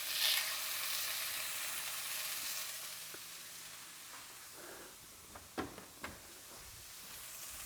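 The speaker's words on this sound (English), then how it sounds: "I'm gonna add a little drizzle of oil to this. And then I'm just gonna drop in the entire package of ground beef." Ground beef sizzles steadily in a hot oiled pan for a Thai basil stir fry, a continuous bright hiss with a few soft clinks and stirring knocks near the end, no voices.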